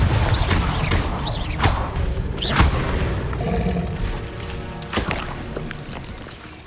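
Confringo fire spell in the Hogwarts Legacy video game, with several booming blasts and sharp whooshes over a dense, loud rumbling bed of game sound.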